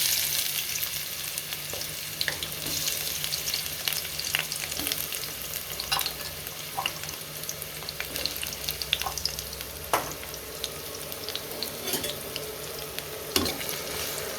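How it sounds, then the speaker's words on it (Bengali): Ginger, garlic and cumin paste fries in hot oil, a continuous close crackling sizzle with sporadic spoon scrapes against the pan. "দিয়ে দিচ্ছি আদা রসুন জিরা বাটা। ভেজে নিই ভালো করে।"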